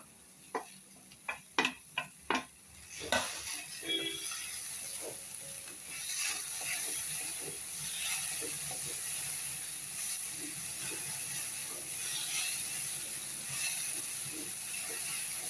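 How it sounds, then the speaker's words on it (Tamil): Tomatoes sautéing in a pan for an okra kootu, opening with a quick run of sharp clicks and clatters, then a steady soft sizzle with scattered light scrapes and stirring taps. "தக்காளியும் சேர்த்து போட்டு வதக்கிடுவோம்"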